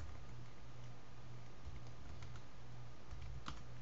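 Steady, fast typing on a computer keyboard, faint and close, with light continuous key clicks and a low hum behind, no talking.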